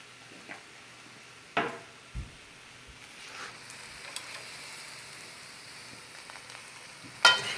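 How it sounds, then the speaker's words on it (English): Eggplant and vegetable stir fry sizzling softly in a pan with coconut oil, a faint steady frying hiss broken by a few scattered utensil knocks and scrapes. "And then we're going to mix it around a little more"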